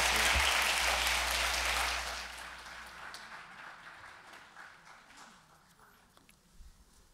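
Loud applause from a church congregation at a Korean Sunday Advent worship service rises full at first, then thins over a couple of seconds into scattered, fading claps and faint rustling.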